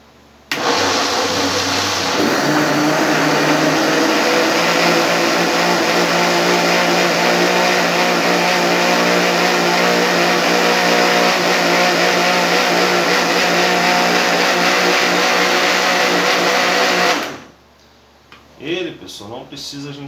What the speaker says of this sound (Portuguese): E aqui nós vamos bater esse nosso chuchu aí, ó.